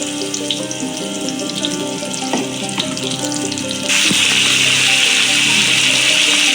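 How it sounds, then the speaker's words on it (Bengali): Pumpkin and potato pieces frying with dried red chillies in a pan for a traditional Bengali village-style dish: loud, close sizzling with scraping stirs and clinks, the hiss swelling sharply and staying bright partway through. "কুমড়ো আর আলু ভালো করে একটু ভেজে নিয়ে"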